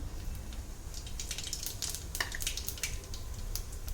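Mustard seeds and cumin dropped into hot oil for an eggplant dish, giving quick crackling pops and spits over a low background hiss, with occasional utensil clinks.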